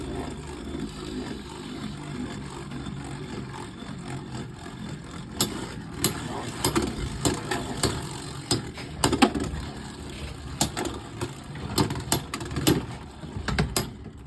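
A Hell's Chain Beyblade X top spins in an Avatar Attack stadium, giving a continuous whir riding the ridge, with sharp clicks and knocks growing busier midway, heard close.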